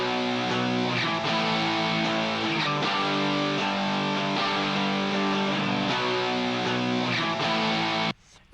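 Several layered distorted electric guitar tracks panned left, center and right play a dense, sustained wall of chords together, loud and continuous before cutting off abruptly near the end.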